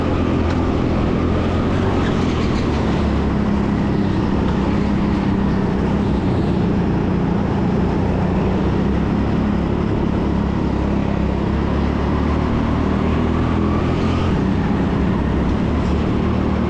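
Go-kart engines race around a TeamSport Sheffield karting track, a loud, unbroken droning roar heard from on board throughout, with no talk.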